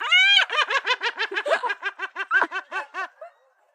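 Siberian gull giving its laughing call: a long opening wail followed by a rapid series of loud, nasal, evenly spaced yelps that fade out near the end, alone and up close.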